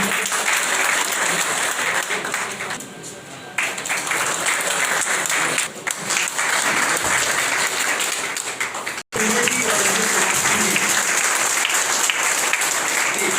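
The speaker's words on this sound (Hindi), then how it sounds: "स्वागत तालियों से" A gathering of doctors at a rural health service event in Gopalganj, Bihar, welcomes its guests with sustained applause. Many people clap in a continuous roar that dips briefly a few times before resuming at full strength.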